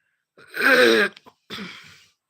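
A woman coughs in two harsh, close bursts, a long hacking fit followed by a shorter one after a brief pause, alone in a quiet room at night.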